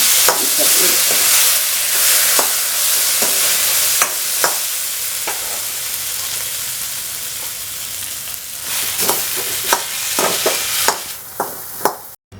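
Jackfruit seed, drumstick and potato thoran being stirred and fried in a pan, with a steady sizzle and repeated sharp scrapes and taps of the spoon, some clustered close together near the end.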